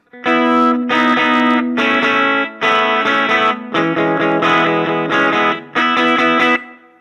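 Choppy, fuzz-distorted electric guitar chords strum in short repeated bursts with brief gaps, loud and close, with only a slight trace of reverb.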